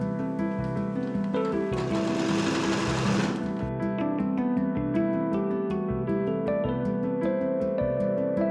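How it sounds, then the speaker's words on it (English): Sewing machine running a zigzag stitch to attach belt loops on pants, a steady rapid mechanical chatter with a hum, close and continuous, with a brief whirring surge partway through. "I then attached all the belt loops, attaching them with a zigzag stitch"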